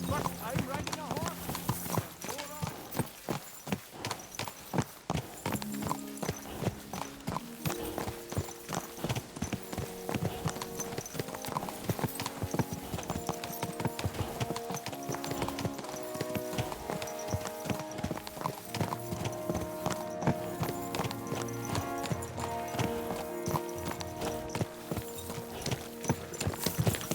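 Steady horse hooves clip-clop through a ride in the medieval video game Kingdom Come: Deliverance 2, a continuous trotting rhythm under layered game music, with a brief whinny possible and faint in-game dialogue in the mix.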